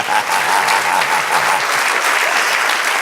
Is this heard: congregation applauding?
yes